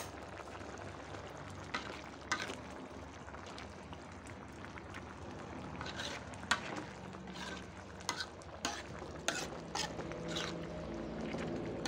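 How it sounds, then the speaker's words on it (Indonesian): Seblak broth boils in a pan, a continuous close bubbling and simmering with scattered louder pops and clinks, with no talk. "Tunggu sampai mendidih rata."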